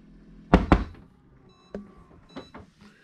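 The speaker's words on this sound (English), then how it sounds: "But here's how you pause it or stop it. Two knocks on the door." Two quick knocks on the door of a Fisher & Paykel dishwasher in a motorhome cabinet, sharp and close, followed by softer clicks and faint thumps.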